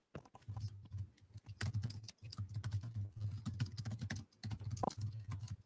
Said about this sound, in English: Is that Joe typing?